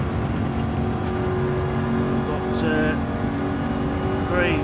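A Ford Mustang race car in a 1970s-series racing video game at Watkins Glen, its engine held high in the revs with a steady droning whine throughout, rising briefly near the end, under continuous commentary.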